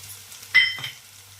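Ginger and onion paste with spices frying in a pan for an Andhra-style mutton dish, a brief close burst of sizzle and a scrape over a low background hum, with no talk.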